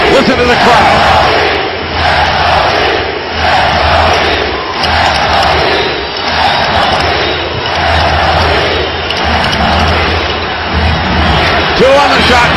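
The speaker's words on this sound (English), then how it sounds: "Listen to the crowd." A basketball arena crowd roars continuously through the closing seconds of a 2009 playoff game between the Hawks and the Heat, a loud, surging wall of cheering that swells and dips, with commentary beneath it.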